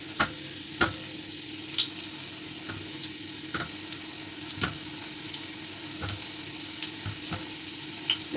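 Jackfruit pieces fry in hot oil for a Bihari-style jackfruit curry, giving a steady, even sizzle broken by frequent small pops and the occasional scrape or clink of stirring.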